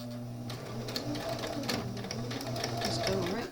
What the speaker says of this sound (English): the needle down, and we're going to take a couple of stitches